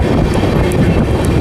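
The Amrit Bharat Express runs through a station without stopping: a loud, continuous rumble of wheels on rails from up close, with faint rhythmic clicks of the track joints.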